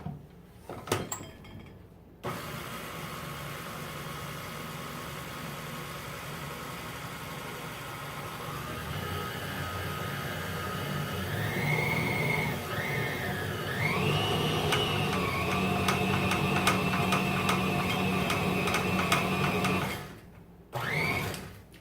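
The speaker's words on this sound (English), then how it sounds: "then you're going to turn it on high speed and you're going to mix until the dough forms" An electric mixer runs on high speed through gluten-free, allergy-friendly rolled sugar cookie dough, giving a steady close motor whine whose pitch shifts and climbs as the dough comes together, with brief pauses at the start and end.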